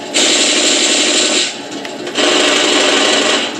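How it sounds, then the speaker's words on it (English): A toy turret machine gun sound effect plays as two loud, buzzy, rattling bursts, about 1.3 and 1.5 seconds long, separated by a short quieter gap. "And then this one is the turret machine gun."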